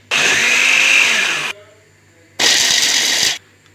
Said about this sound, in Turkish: İlk önce arkadaşlar kuru yemişlerimizi blenderdan geçireceğiz.